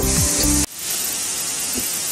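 Onion fries in a pan until reddish, a loud close sizzling hiss that follows a brief tonal burst at the start and then holds steady, with no voices.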